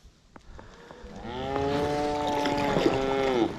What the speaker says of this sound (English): Cows up in the woodline.